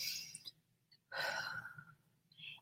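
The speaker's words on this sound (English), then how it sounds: "And then just take a nice deep breath." A deep breath taken slowly, a soft airy inhale then a longer, fuller exhale up close, with a short breathy tail at the end.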